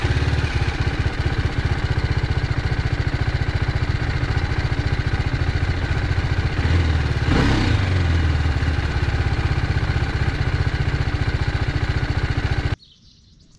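A motorcycle engine runs steadily and loudly up close during a ghat road ride, a continuous throbbing drone with a brief swell midway, cutting off abruptly near the end.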